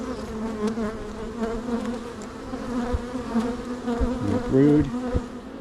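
Honey bees in an opened hive full of brood and honey buzz steadily at close range, with a few louder individual bees passing by, while a person speaks briefly over the hum.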